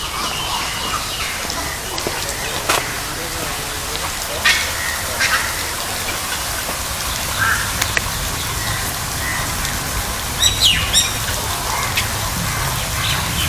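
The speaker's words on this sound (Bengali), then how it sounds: "পেলিকান।" Pelicans in a zoo enclosure give scattered short honks and grunting calls over a busy outdoor hum, moderately near, with faint background voices of visitors.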